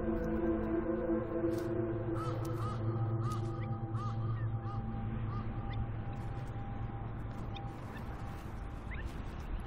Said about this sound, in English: A raven is particularly keen on freshly hatched chicks.